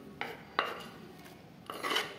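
Chopped onion, green chili and tomato stirred into a soaked semolina and yogurt batter for uttapam, with a few scraping clinks of a spoon against a bowl and soft wet mixing in between.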